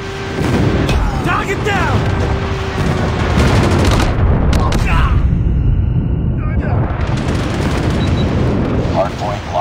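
Airstrike explosions in Call of Duty Mobile on Android, a dense run of heavy booms and gunfire rolling through the whole stretch at high volume, with in-game voice callouts over the blasts.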